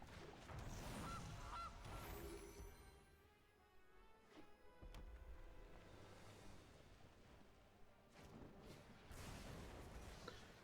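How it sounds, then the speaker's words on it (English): A flock of cartoonish geese honking as a game sound effect in MTG Arena, a dense, continuous clamor of overlapping honks lasting several seconds with bursts of louder squawks. "let's unleash the geese."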